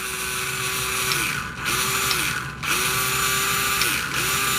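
A Carrera Digital 1/32 1960 Plymouth Fury slot car laps the track, its electric motor whining loudly and evenly, pitch falling and rising in repeated surges with brief dips between runs, close and alone.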